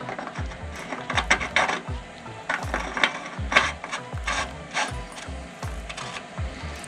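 Metal grate and cap clanking and ratcheting on a homemade wood gasifier used to fuel a generator, a series of repeated sharp mechanical clicks and knocks, close and fairly loud, with no talking.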